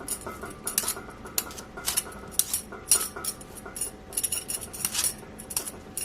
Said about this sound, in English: come with a peeler and just start peeling